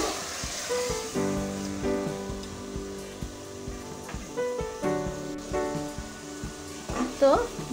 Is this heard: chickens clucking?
no